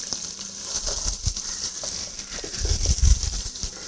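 Pounded garlic and chopped onions sizzle in a hot pan for a Chappala Pulusu fish curry, a steady bright hiss with a few low thumps and stirring knocks, louder near the end.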